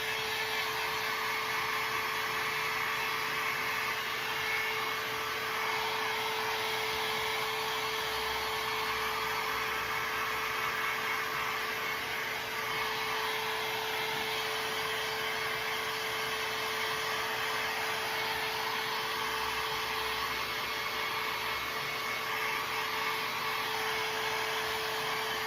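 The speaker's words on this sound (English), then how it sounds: "this is a heat gun I'm using" A steady, continuous whooshing roar of a heat gun blowing air with a constant motor whine, unchanging throughout and without any talking.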